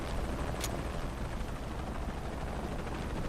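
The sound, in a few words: helicopter in Shadow of the Tomb Raider video game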